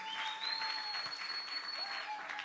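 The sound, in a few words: congregation applauding in church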